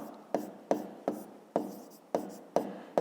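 Pen writing on paper during a fifth-grade math exercise, seven evenly spaced scratchy strokes close by, steady rhythm, no voice.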